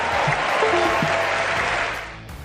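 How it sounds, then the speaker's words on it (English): A political convention crowd cheers and applauds in a dense, loud roar of clapping and whooping voices that fades toward the end. "the crowd says woo"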